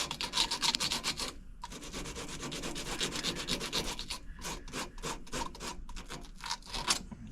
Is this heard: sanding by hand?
yes